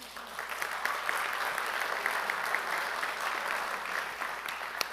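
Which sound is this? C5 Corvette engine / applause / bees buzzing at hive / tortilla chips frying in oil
applause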